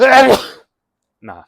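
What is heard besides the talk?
sneeze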